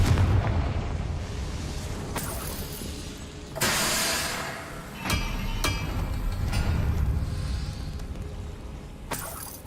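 Fiery Confringo spell blasts from the Hogwarts Legacy video game, several loud booming explosions with bright bursts and rumbling tails over a low background rumble.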